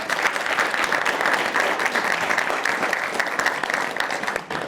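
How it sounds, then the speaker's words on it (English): Dense, steady applause from an audience welcoming a panel of students at a university fireside chat, loud and continuous with no speech over it, fading slightly at the very end. "So let's give them all a round of applause"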